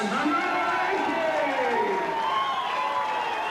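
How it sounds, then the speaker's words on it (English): A crowd at a darts exhibition in Townsville cheers and roars continuously, with excited voices and shouts rising and falling in a dense, sustained wash of sound. "And the crowd goes wild"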